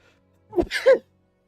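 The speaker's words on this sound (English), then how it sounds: "I feel a sneeze coming on." A single human sneeze, sharp and close, with a brief breathy build-up before the burst, heard alone in quiet.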